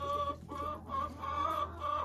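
Hens cluck and murmur close by inside a henhouse, several birds overlapping in soft, repeated calls over a low steady hum.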